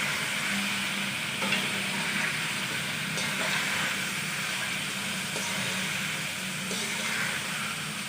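Chicken pieces stirred in a karahi with salt, a steady sizzle and broad frying hiss running throughout with soft scraping of the spatula, close and even, no voices.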